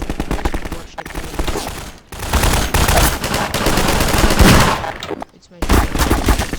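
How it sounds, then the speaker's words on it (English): Dense bursts of rapid automatic gunfire from a Garry's Mod video game session, loud and nearly continuous, broken by two short pauses, with some voices mixed in. "Stop shooting back."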